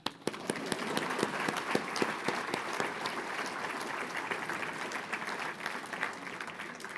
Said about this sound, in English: Clap her.